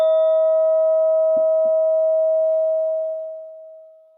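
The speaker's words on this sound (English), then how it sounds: "At the sound of the bell, I'm going to guide you through 5 deep abdominal breaths." A meditation bell struck once rings out with a clear, sustained tone that slowly fades over several seconds, with faint small knocks underneath.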